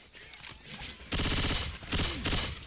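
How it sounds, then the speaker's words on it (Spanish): A teammate fires in Left 4 Dead 2 with loud, dense bursts of rapid gunfire, two sustained volleys separated by a brief pause, close and dominant over quieter game ambience. "¿Puedes parar de dispararme?"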